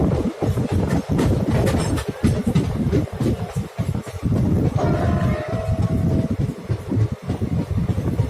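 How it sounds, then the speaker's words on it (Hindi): An Indian train hauled by a WDG6 diesel locomotive, the Hoshiarpur Express, approaches Phagwara with loud, steady rumble and rhythmic clickety-clack of wheels over rail joints, heard from on board, with a brief tonal whine midway. "अब हम लोग अप्रोच कर रहे हैं फगवाड़ा की तरफ, जो कि हमारी तरफ से सेकेंड हॉल्ट है और इस ट्रेन का 4th हॉल्ट है"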